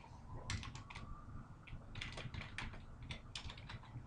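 Computer keyboard typing MATLAB commands, a close series of quick irregular key clicks in short bursts with brief pauses between them.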